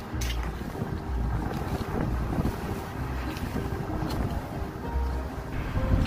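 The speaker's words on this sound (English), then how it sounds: "Oh, the wind." Wind buffets the microphone outdoors at an air rifle range, a continuous low rumbling roar with gusty swells that lasts throughout, with no clear speech.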